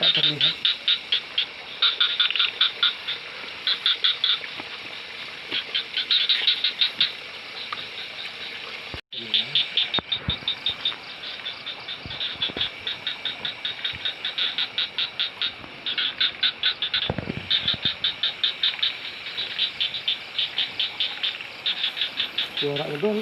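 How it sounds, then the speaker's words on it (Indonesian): A dense chorus of frogs croaking and insects chirring outdoors, a steady rhythmic pulsing that runs almost unbroken, loud and close, with a single brief dropout near the middle and faint voices underneath. "Banyak suara katak teman-teman, tapi kataknya tak terlihat."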